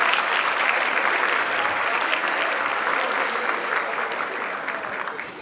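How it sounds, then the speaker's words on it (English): A large audience in a banquet hall applauds at an awards ceremony. The clapping is loud and dense, holds steady, and then slowly thins toward the end. "A round of applause for them right now."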